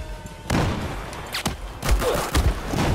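Gunshots in a first-person shooter game, a few sharp, loud bursts spaced irregularly over a short stretch, with a thud or two among them.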